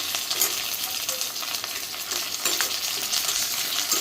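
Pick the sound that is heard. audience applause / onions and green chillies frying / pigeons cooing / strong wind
onions and green chillies frying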